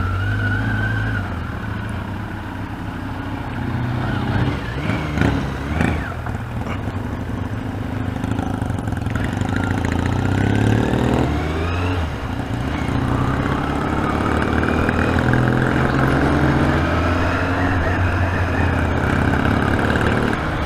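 Yamaha XJ750 motorcycle engine running, a steady loud rumbling drone with shifting pitch as it revs, heard alone without speech for the full stretch.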